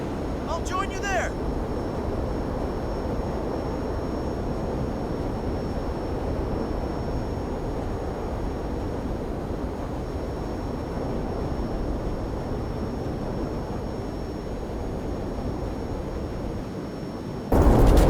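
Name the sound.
airplane flying in a video game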